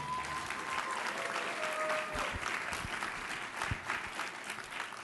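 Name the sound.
applause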